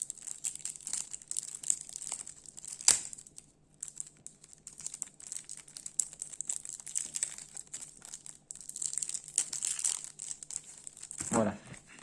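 Packaging crinkles and rustles as a Skymines deck-building board game box is opened, with scattered small crackles and one sharper crunch, close and moderately quiet.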